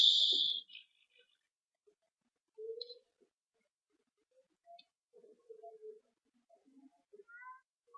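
Kittens meowing in short, faint high calls, a couple of brief mews scattered across quiet stretches after an initial louder burst of noise.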